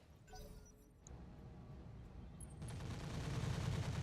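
Weapons fire from mechs in the Roguetech battle game: a dense rattle of gunfire and impacts that builds into a louder, sustained barrage of rapid shots, heard alone.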